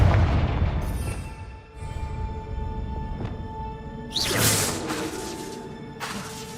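A fire spell cast in Hogwarts Legacy bursts with a whooshing blast and a low boom, then a second burst follows a moment later, all set over a steady game background hum.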